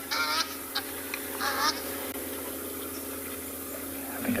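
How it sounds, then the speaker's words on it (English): Geese honk in loud, irregular bursts at a South African safari waterhole, several calls clustered near the start and middle, over steady background noise with no talk. "the geese are very noisy"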